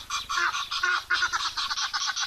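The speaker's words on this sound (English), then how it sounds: "Rogue geese just flew into shot." Geese flying into view over a waterhole give a quick run of loud, nasal honks in irregular bursts, close and overlapping, with no voices.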